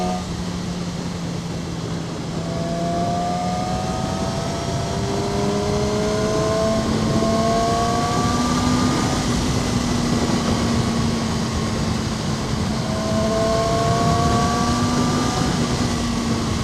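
A 2012 Yamaha R6 50th Anniversary motorcycle cruises in sixth gear at about 55 mph and 5,000 rpm, giving a steady, even engine drone with wind rush. It holds a constant pitch throughout, with no talking.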